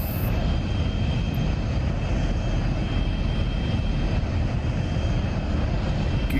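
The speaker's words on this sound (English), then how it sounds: "Here comes the afterburner." An F-106 Delta Dart jet engine on afterburner in the DCS flight simulator, a steady, loud, close roar with a thin high whine, sustained without a break and without talk.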